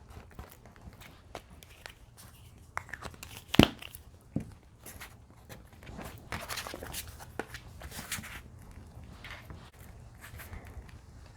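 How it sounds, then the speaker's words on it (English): Scissors cut a paper book page and it is folded by hand, with scattered soft snips, crinkles and rustles at close range, including one sharper snap, all fairly quiet. "Let me cut it and fold it."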